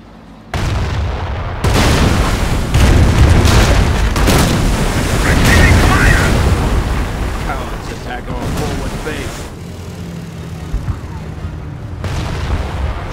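Incendiary artillery strikes in Company of Heroes: Tales of Valor, Falaise Pocket battle, rolling booms and blasts in a sustained rumbling barrage with crackling fire, loud and continuous, some voices faintly mixed in.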